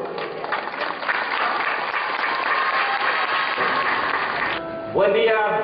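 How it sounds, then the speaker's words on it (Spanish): Sustained applause from a school audience welcoming a speaker, a dense even patter that cuts off abruptly near the end, followed by a voice beginning to speak. "Recibámoslo con fuertes aplausos."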